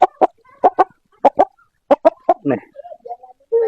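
A chicken held in someone's hands lets out a rapid series of loud, close clucks and squawks in short bursts, followed by softer drawn-out protest calls.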